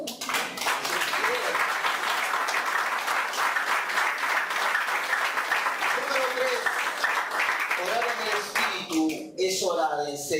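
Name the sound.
congregation applauding in church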